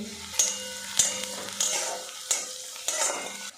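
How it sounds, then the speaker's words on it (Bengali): Chopped onion and green chili fry in a pan with a steady sizzle, broken every half second or so by sharp scraping stirs of the spatula. "পেঁয়াজটাও আমি ভেজে নেব"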